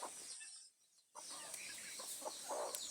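Captured village chickens and roosters held together for sale at market cluck faintly in a soft, continuous murmur, with a brief lull before the chatter resumes.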